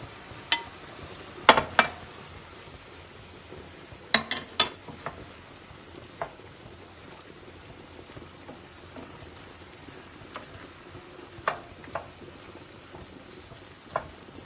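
Quiet sizzling and simmering of a liver and bacon casserole in a pot, with scattered clinks and scrapes of a spoon stirring, several sharp taps standing out against the low bubbling.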